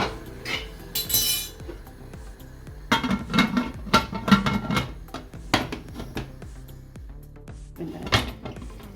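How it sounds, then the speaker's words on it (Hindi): A metal pressure cooker lid being fitted and locked shut while cooking aloo qeema at home, a series of clanks, scrapes and knocks of metal on metal, some sharp and close, with quiet gaps between. "अब हम कुकर बंद करके इसे 5 मिनट तक पकाएंगे और मीडियम टू लो फ्लेम।"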